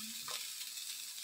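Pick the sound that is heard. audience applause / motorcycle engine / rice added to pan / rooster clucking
rice added to pan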